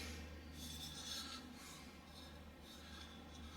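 Metal tail light surround pieces for a van are sanded in a steady, faint rasping rub that continues evenly with a low hum underneath.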